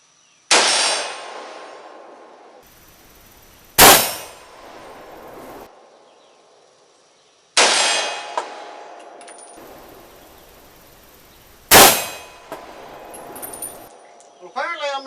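FK 7.5 pistol firing at 50 yards on an outdoor range, four loud sharp shots in two pairs, each followed by a bright metallic ring of the bullet striking a steel target and a decaying echo.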